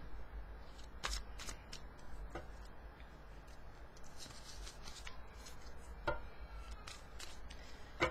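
Tarot cards shuffled with soft, uneven papery riffling and sharp card snaps at intervals, close up, with a faint steady hum underneath and no voices.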